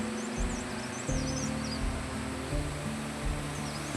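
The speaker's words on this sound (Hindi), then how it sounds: "मेरे घर के नज़दीक पानी का वाटरफॉल है, नेचुरल वाटरफॉल" Natural waterfall flowing near a house, a steady rushing wash of water heard close and constant, with a low rhythmic rumble and faint birdlike chirps over it.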